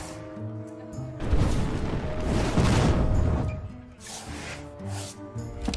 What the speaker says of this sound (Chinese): 爆炸！